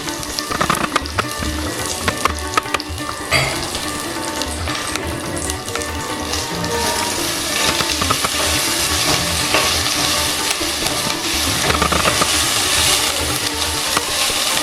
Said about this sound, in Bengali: ফোড়ন থেকে সুগন্ধ বেরোলে 1 চা চামচ আদা বাটা দিয়ে দিচ্ছি।